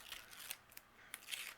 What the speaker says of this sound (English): I'm going to remove the release paper